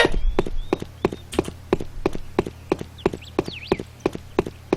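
Footsteps from the online shooter game Sudden Attack thud in a steady, even rhythm, a clear sharp step about every third of a second, loud and close, with faint tonal game sounds in the background.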